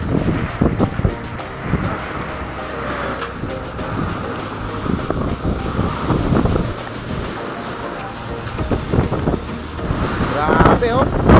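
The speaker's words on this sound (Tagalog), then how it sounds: "Nangalit talaga ang alon." Rough sea waves surge against the shore in strong wind, a continuous broadband roar with gusts buffeting the microphone, while people talk over it throughout.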